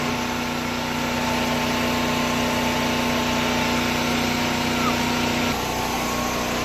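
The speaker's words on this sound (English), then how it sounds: "This is an oscillating tool, and they cut real good." An oscillating multi-tool cuts during a cedar fence build, giving a steady, loud, even buzzing drone that holds for several seconds and then shifts pitch near the end, with no talk over it.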